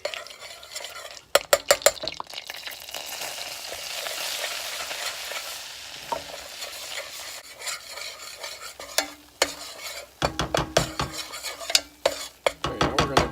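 Butter and flour stirred together in a pan for a roux, a soft sizzle broken by bursts of rapid utensil scraping and clacking against the pan, close and uneven.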